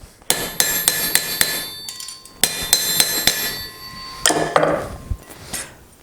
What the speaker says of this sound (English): we want to just kind of hammer that around that horn, keep it nice and flat